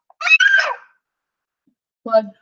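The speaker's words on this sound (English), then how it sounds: "I made a couple grunting screams" A man re-enacts grunting screams with his own voice: one strained, drawn-out cry, a pause of silence, then a shorter grunt, close and loud.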